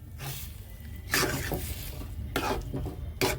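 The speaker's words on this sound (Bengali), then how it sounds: "এবার আমি তড়কাটা এর মধ্যে ঢেলে দিচ্ছি।" Pre-boiled tarka is poured into a fried mixture in a pan and stirred, giving a steady close scraping and stirring with soft sizzle and a few sharper utensil knocks against the pot.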